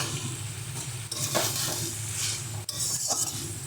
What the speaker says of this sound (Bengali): বড়িটা দিয়ে ভালো করে মিশিয়ে নেব